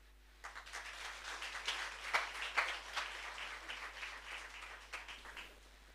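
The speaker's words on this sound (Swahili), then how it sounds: "makofi" A church congregation breaks into applause, a moderately faint burst of many hands clapping that swells and then tapers off over several seconds.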